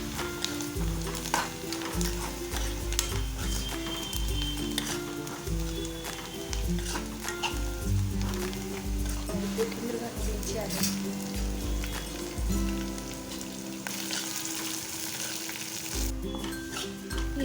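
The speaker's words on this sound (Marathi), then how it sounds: "इथे आपली फोडणी छान अशी परतली गेलेली आहे" Onion and green chili sizzle in a cumin and mustard seed tempering as a quick snack made from leftover chapati is cooked, a steady close frying crackle over low tonal background sound.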